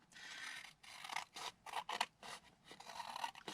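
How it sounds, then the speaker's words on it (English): Scissors snip through a paper envelope flap in a string of crisp, close cuts with short pauses between strokes. Soft paper rustling runs under the cutting. "So let's just cut this off."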